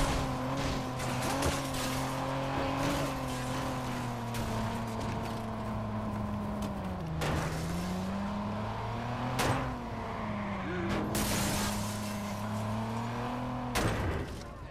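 A car drives through the Watch Dogs video game, its engine droning continuously with pitch shifts as it changes speed, punctuated by several sharp tire screeches and skid sounds.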